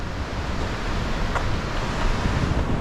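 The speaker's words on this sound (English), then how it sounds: "And the river is literally right there now." Steady broadband rush of the Dosewallips River close by, a continuous roar of fast water with wind noise mixed in, no voices.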